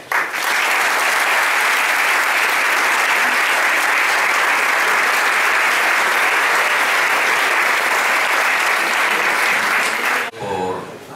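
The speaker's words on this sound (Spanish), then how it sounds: "Un merecido aplauso a sus autores." Sustained audience applause at a book presentation in the Real Liceo Casino de Alicante, a dense, steady clapping from a full room lasting about ten seconds, then cutting off abruptly into a brief quiet pause.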